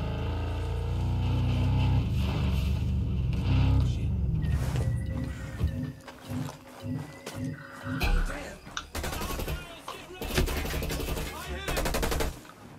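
An LMG machine gun fires in Minecraft in bursts of rapid, loud rattling, mixed with game noise and excited talk from players.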